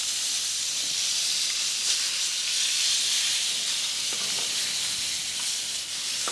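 Short ribs sizzle loudly in hot grease in a pan, a dense, steady bright hiss that carries throughout, with faint taps and shifting as the ribs are flipped, close and continuous without speech.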